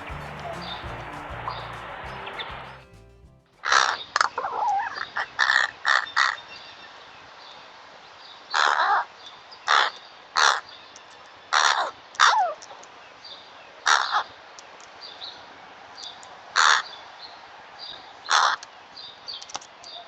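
Loud crows caw repeatedly in short, irregular bursts, close by, with quiet gaps between calls after a brief stretch of muffled noise at the start.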